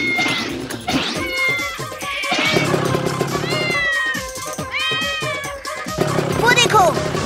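A cartoon cat meows repeatedly in a Hindi kids' animation, its rising, wavering cries close and loud, mixed with voices talking and calling over it throughout.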